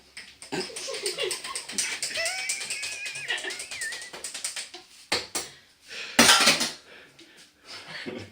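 A spoon clinks and scrapes against a glass, stirring a drink of Malibu topped up with Fosters lager. The tapping is quick and irregular, with muffled voices and background chatter around it and a louder clatter near the end.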